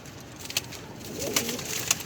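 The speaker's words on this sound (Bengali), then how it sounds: "সুন্দর সুন্দর কবুতরগুলো" Pet pigeons, including silver and khaki birds, give soft, low cooing nearby, with a few faint sharp clicks and rustles in an otherwise quiet space.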